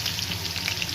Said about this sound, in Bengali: আলুটা একটু ভেজে নেব লাল করে।